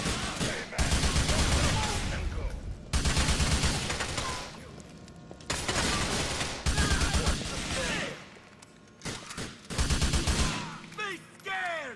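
Rapid bursts of gunfire from the video game GTA 4, loud and close, arriving in several sustained volleys separated by short pauses, with someone speaking between the shots.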